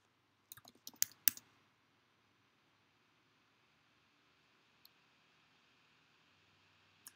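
Several quick computer mouse clicks cluster in the first second and a half, near and crisp, followed by a long near-silent stretch broken only by a couple of faint isolated clicks.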